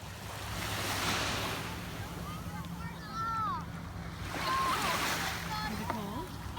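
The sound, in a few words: ocean waves at the beach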